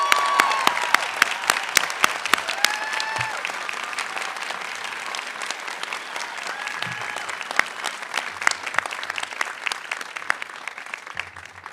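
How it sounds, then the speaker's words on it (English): A large audience claps steadily at a university commencement ceremony, a dense, even wash of applause sustained for several seconds, with no voices rising above it. "Let's give them all a round of applause."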